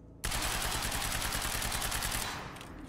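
Gunfire in the shooter video game Quantum Break: a sudden, dense burst of rapid automatic shots runs continuously for about two seconds, then tapers off.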